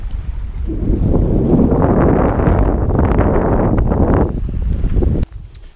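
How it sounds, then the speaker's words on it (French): Strong wind gusts across a hiking trail beside Lac Matapédia in Canada. It is a loud, continuous, close buffeting rush that stays steady and then drops off abruptly near the end. "il y a pas mal de vent, donc ça rafraîchit"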